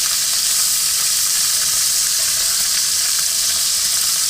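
Fish frying in beaver fat in a pan at a winter truck camp in a northern Minnesota forest, a loud continuous close sizzle and hiss with no speech.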